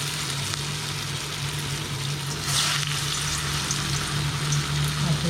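Fig vada frying in hot oil in a kadai over a medium flame, a loud steady sizzle that swells slightly partway through, with no talk.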